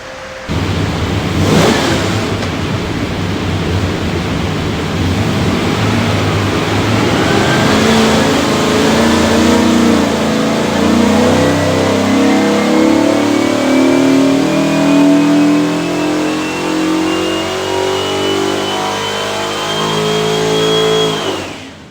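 A 491 hp Ford 347 V8 from a 1968 Mustang makes a loud dyno pull, its roar climbing steadily in pitch for about twenty seconds before easing off at the end.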